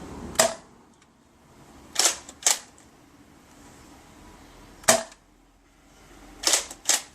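Nerf Kronos Lawgiver MKII blaster firing in full auto, sharp snapping shots in small bursts of one and two with quiet pauses between, close and fairly loud.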